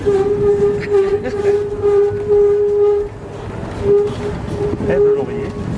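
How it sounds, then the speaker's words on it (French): Trains pass near an old lane in Molières-sur-Cèze in the Gard, with a loud sustained horn tone and steady rumbling rail noise throughout, close and continuous. "c'est des trains"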